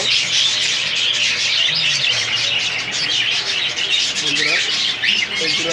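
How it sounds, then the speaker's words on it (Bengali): A dense chorus of caged birds squawks and chirps continuously at a crowded bird market in Mirpur, loud and close, with shrill overlapping calls and faint human voices mixed underneath. "আরো আরও অনেক পাখি"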